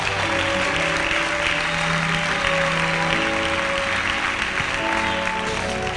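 A church congregation claps continuously in a dense, even roar of applause, with sustained musical tones humming softly underneath throughout.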